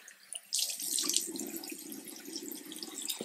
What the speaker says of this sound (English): I rinse it with my hands first.